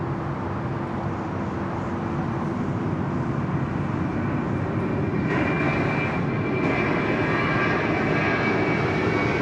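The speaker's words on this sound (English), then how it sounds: "There's one of our Qantas Dreamliners." A Qantas Boeing 787 Dreamliner at Sydney Airport gives a steady, broad jet engine rumble that holds evenly throughout at moderate loudness, with no voices.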